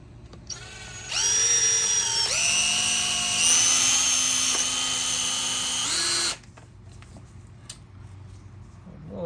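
A power drill pre-drills wood with a new 1/8 inch bit while a rug tufting frame is being built, whining loudly for about five seconds with pitch shifts as it bites and speeds up, then cutting off.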